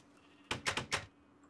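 Minecraft sheep bleat: a quick cluster of three or four wavering, breathy bleats in the video game, close and moderately loud over a quiet background.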